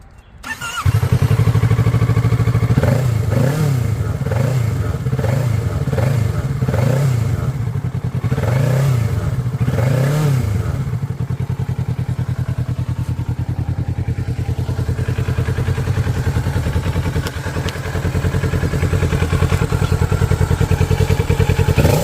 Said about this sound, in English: And I'm going to just rev it up.